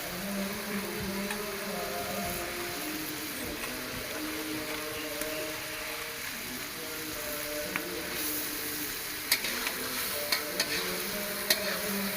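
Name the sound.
fish heads added to frying onion masala, sizzling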